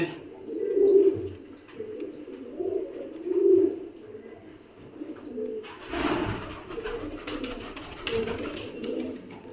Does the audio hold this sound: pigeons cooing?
yes